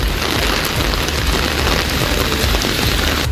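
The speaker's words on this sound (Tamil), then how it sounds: "திருவாரூர் மற்றும் அதன் சுற்றுவட்டார பகுதிகளில் விட்டுவிட்டு கனமழை பெய்தது." Heavy rain pours steadily over Tiruvarur in Tamil Nadu, a dense, loud, unbroken hiss of close downpour with no break.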